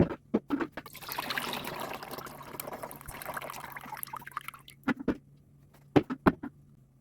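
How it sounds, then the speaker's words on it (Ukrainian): Plum juice trickles and splashes steadily from a jar for several seconds, followed by a few sharp clinks and knocks of glass. "і будемо зливати сік"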